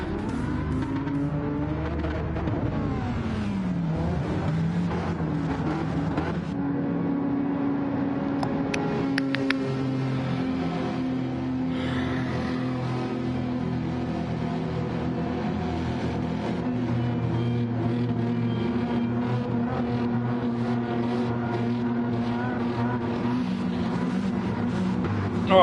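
Racing car engines at Brands Hatch in Gran Turismo 7 drone and rise through gear changes, with a steady close engine note and other cars revving and passing throughout, continuous and fairly loud.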